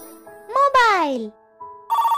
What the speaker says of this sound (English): Mobile!